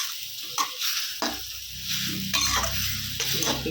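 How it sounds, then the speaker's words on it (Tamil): Sorrel leaves (pulicha keerai) cook in a pan with a steady, close sizzle, broken by a few soft scrapes and knocks of stirring. "கீரை வதங்கிடுது. கொஞ்சம் நல்லா வதங்கணும்."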